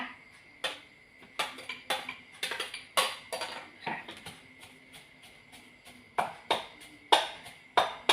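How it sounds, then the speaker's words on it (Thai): Fish pounded in a mortar for Thai pla ra: sharp, irregular knocks and clacks of the pestle, close and fairly loud, repeating unevenly with short pauses and no speech. "ใส่ปลาลงไปโขลกด้วยนะคะ"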